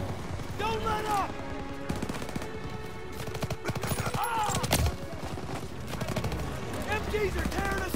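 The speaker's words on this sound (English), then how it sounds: "MGs are tearing us up!" Call of Duty WWII battle with sustained rapid machine gun fire and scattered gunshots, dense and loud throughout, under shouting voices.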